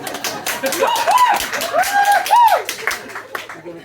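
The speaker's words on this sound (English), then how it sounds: "You get a round of applause." An audience at a seaside summer show claps for a chocolate poem, the applause steady and fairly loud beneath a prominent, expressive voice that carries over it throughout.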